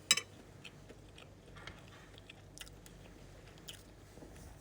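Chewing and biting on fried catfish (pecel lele) eaten by hand at a dinner table, with quiet close crunches and a sharper bite at the start, faint and intermittent over low room hiss.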